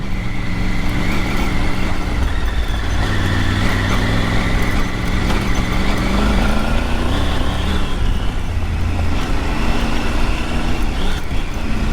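Triumph Tiger 900 ridden off-road up rocky Canfield Mountain, a steady close engine drone that swells and dips with rumbling tire and wind noise throughout, no talking.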